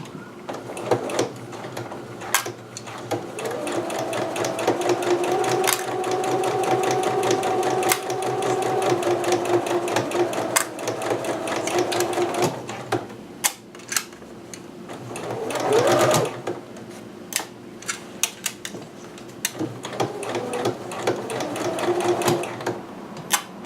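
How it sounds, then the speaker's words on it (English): A sewing machine bastes a kimono piece on its widest stitch, running in long steady bursts with brief pauses and small clicks between runs, close and fairly loud with no talking. "And then just start basting your piece"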